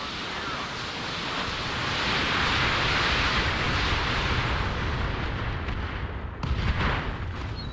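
Heavy missile barrage pounding a Thunderbolt mech in a battle game, a loud sustained roar of overlapping blasts and rumbling impacts that swells, then thins out with a few sharper bursts near the end.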